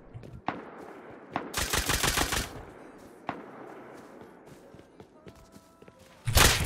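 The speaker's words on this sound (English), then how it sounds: "Getting played on by a fucking nail gun, mate." Nail gun shots in the game Rust, a sharp single crack followed by a rapid burst of loud shots, then another lone crack and a final loud burst, over a low background of game noise.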